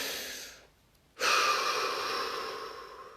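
A single deep breath is drawn in audibly, a soft airy inhale following a brief pause, close and quiet with no talking.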